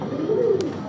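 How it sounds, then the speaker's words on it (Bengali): A pair of Blue Bird fancy pigeons gives a low, soft coo that swells once near the middle, close by, with a faint background hum and no talk over it. "এই জায়গায় এক জোড়া কবুতর দাদা"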